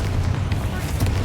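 Explosive blast spell from the video game Hogwarts Legacy, a short burst of rumbling, fiery noise with a dense low roar lasting about a second.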